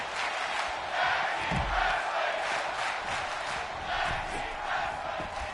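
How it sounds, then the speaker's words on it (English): Wrestling crowd at a BWE tag team match chanting in steady rhythmic waves, a large roar filling the space without a clear lead voice. "The crowd chanting tag team wrestling"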